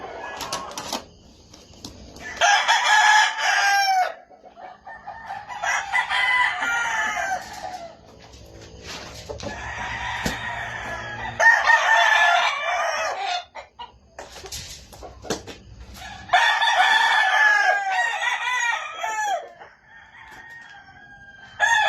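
Five gamecocks being readied for delivery to Tayabas, Quezon crow repeatedly, several loud, drawn-out cock-a-doodle-doo calls close by with short clucks and quieter gaps between them.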